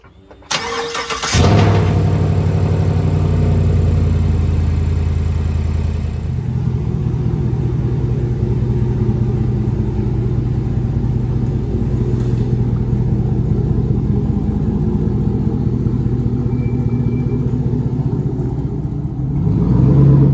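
A car's engine cranks and fires up after a cheap transmission modification, then settles into a loud, steady idle rumble with slight revving that carries on for the rest of the clip, with no voices.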